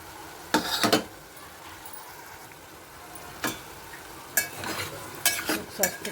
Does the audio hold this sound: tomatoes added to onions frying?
yes